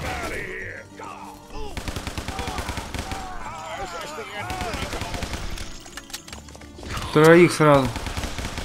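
Automatic rifle fire in the game Guns, Gore & Cannoli: bursts of shots under a voice, ending in a loud close burst near the end.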